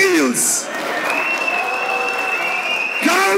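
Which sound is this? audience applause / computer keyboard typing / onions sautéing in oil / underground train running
audience applause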